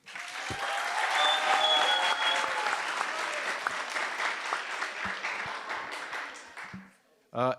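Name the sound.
applause for the debaters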